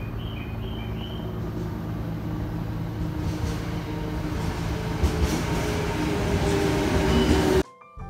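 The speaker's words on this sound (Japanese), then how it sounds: "8号東京行きが参ります。" A nine-car JR limited express Kaiji train pulls into a station platform at Yamanashi-shi, its steady rumble and rolling wheel noise filling the scene loudly and continuously before cutting off abruptly near the end.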